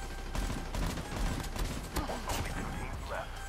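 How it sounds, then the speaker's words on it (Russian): Bursts of distant gunfire in Call of Duty Mobile battle royale crackle through a noisy background, with game effects and scattered voice sounds mixed in throughout. "Вот тут где-то идет пальба, стрельба за деревом, да?"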